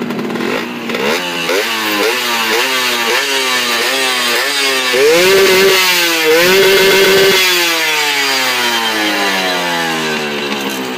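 A Honda Nova motorcycle on its stock exhaust, fitted with a fresh B9ECS spark plug, revs up repeatedly in loud, close bursts, climbing in pitch and briefly holding high before easing back down.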